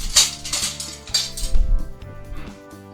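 A small spoon clinks sharply against a dish a few times, close and clear, while hot apple charlotte is soaked with a juice syrup; between the bright metallic taps come soft scraping and handling sounds, with no one talking.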